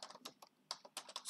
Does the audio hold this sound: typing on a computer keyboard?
yes